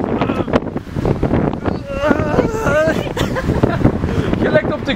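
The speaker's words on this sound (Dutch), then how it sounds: "Oh, wind." Wind buffets the microphone outdoors, a continuous rumbling gusty noise heard under a man's close, ongoing talk.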